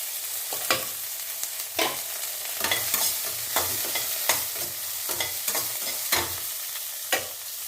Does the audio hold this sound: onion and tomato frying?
yes